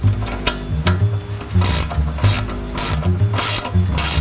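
Ratchet wrench with a 19 mm socket tightening bolts on BMW drift steering parts, giving repeated rapid clicking bursts close up, several runs of ratcheting separated by short pauses.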